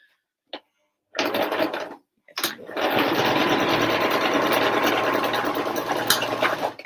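A sewing machine stitches thick fabric for a child's bucket hat, starting with a few brief bursts and then running in one long, loud, steady whirring rattle up close.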